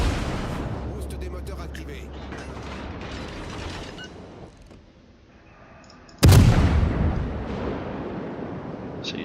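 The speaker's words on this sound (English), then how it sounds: "I'm getting shot at now." Naval artillery fire in World of Warships, a sudden heavy boom late on after a stretch of rumbling battle noise, with someone talking over the first part.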